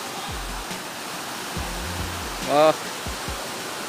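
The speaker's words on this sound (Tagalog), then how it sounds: "Yan yung agos ng tubig guys." Water at Dao Falls in Auring Village rushes in a steady broadband hiss throughout, with a brief voice exclaiming near the middle and a few low thumps.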